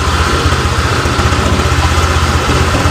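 A Honda Vario 125 scooter, suffering from a stutter and overheating, idles up at about 1500 RPM with a steady, close, throbbing low rumble and even pulsing, heard alone.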